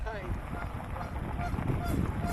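A goose honks aggressively at close range, its harsh calls mixing with wind and bustle as it charges toward the person filming; voices are faint underneath.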